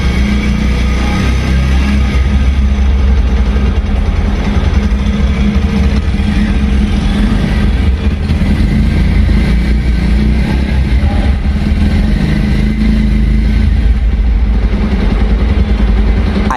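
A 125 cc motorcycle engine idles close and loud, its steady exhaust note throbbing evenly throughout with no speech.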